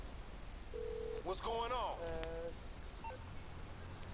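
A phone is brought up in GTA 5 Online with a short flat beep and then a rising, warbling electronic chime. A voice speaks briefly near the end.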